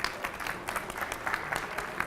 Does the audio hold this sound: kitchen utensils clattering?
no